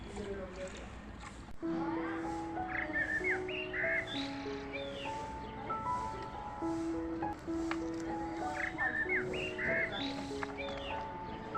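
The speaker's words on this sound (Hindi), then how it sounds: "कौवे खाने के लिए भी आ गए।" Several crows caw harshly on and off, fairly close, over a steady outdoor background with a voice speaking and other birds faintly calling, crows coming for food at a house in the early morning.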